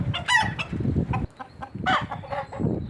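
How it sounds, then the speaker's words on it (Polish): Chickens encountered along a path in Kraków cluck and squawk in several close, busy bursts, with a brief quiet gap midway before the clucking resumes. "Oj, po drodze napotykam takie kury."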